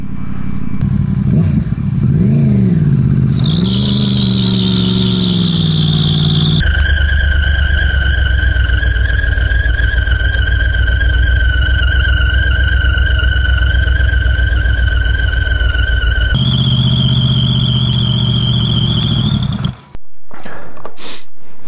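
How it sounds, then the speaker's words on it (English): A Yamaha R1 sportbike engine revving on a ride, loud and close, with a rising wail that settles into a steady high-pitched drone, shifts pitch, then cuts off abruptly near the end. "I've been riding the R1 around"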